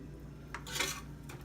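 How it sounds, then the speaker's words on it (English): A spoon knocks and scrapes a few times against a metal cooking pot while salt and pepper are stirred into a dish, brief clinks over a quiet room hum. "We're going to mix it all together, and we're going to wait for it to come to a boil."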